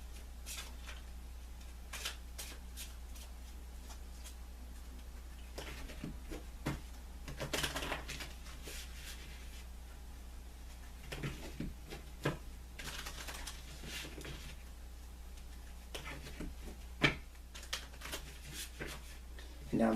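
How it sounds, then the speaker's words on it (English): Playing cards are shuffled in bursts of quick riffling and soft flicks, close by, with pauses between over a steady low hum. "so we're going to shuffle the cards"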